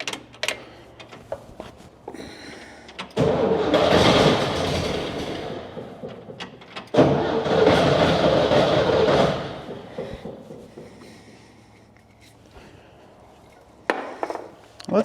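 An old jalopy Jeep engine raised up in a workshop cranks and runs in two loud bursts of several seconds each, rough and sputtering, with quiet gaps between.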